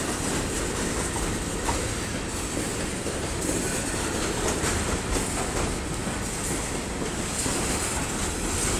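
A slow BNSF freight train rolls through a gated road crossing in Effingham, Illinois, its steady, close rumble and wheel clatter running unbroken without any talking.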